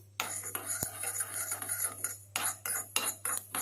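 Fenugreek seeds roast in a pan, a utensil scraping and clinking against the metal in short, close bursts with quiet gaps between strokes.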